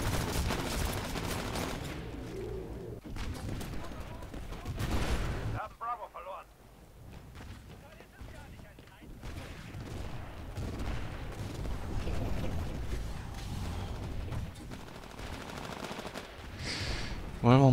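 Titanfall multiplayer gunfire, including bursts of automatic fire and heavy blasts, echoes across a chaotic battle, with someone talking over parts of it.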